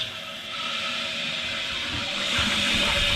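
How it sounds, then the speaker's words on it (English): Water rushes into a newly set toilet after the supply valve is opened, a steady hissing flow that swells louder toward the end, with no talking. "Now let's turn the water on."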